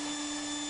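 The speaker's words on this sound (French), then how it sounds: "Et je mixe." Blender whirring steadily while mixing a homemade eggnog of hot milk, a constant high motor hum with no change across the brief stretch.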